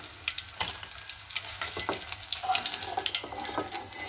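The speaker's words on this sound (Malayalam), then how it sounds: "നമുക്കങ്ങനെ ഓരോന്നും എണ്ണയിലിട്ട് മുപ്പിച്ചെടുക്കാം" Soya beans frying in hot oil, a crackling sizzle with uneven bursts and pops, close and fairly loud, with no voices.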